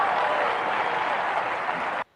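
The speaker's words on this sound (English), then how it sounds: "all this cheering and everything" Dense, steady applause with some cheering from a large audience, loud and sustained for about two seconds before cutting off abruptly.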